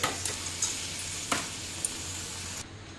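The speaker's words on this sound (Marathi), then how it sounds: "आता झाऱ्याने अशी तोंडली बघा काढून घेते" Fried ivy gourd (tondli) lifted out of hot oil in a kadhai with a slotted spoon: a steady sizzle of oil with a few sharp metallic scrapes and taps of the spoon, close by, cutting off near the end.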